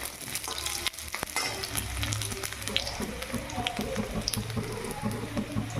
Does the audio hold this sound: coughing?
no